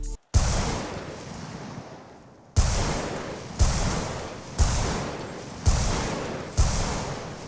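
Gunfire in the GTA FiveM game: a burst of shots opening the clip, then a series of about five heavy, loud reports with short echoing tails, spaced roughly a second apart.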